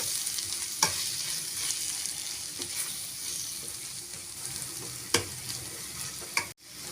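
Chili powder and turmeric masala for soya keema frying in a pan and being stirred, a steady close sizzle with a few sharp scrapes of the spoon, no voices.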